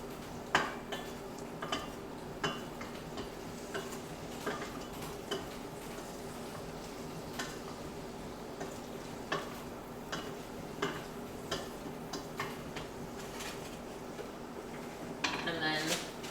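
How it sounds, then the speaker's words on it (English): Dill potatoes being stirred in a pot: soft, quiet clinks and scrapes of a utensil against the pot recur at irregular intervals over a low steady background, with a louder clatter near the end. "Give those a little stir."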